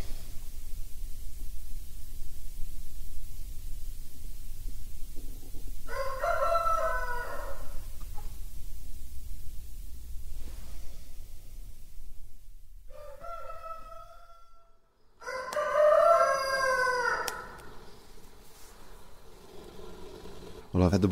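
A rooster crows twice in a farmyard, loud and close, with quiet ambient noise between the calls.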